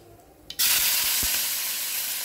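Mustard seeds, cumin, curry leaves and green chillies dropped into hot oil for a tomato curry, a couple of soft taps and then a sudden loud sizzle that stays strong and steady, close by with no talk.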